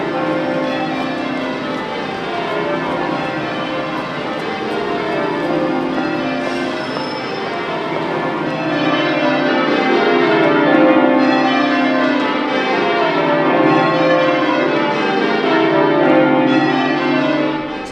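Church bells of St Mary-le-Bow in London ring continuously in a loud, overlapping peal, tones cascading and layering throughout with no talk.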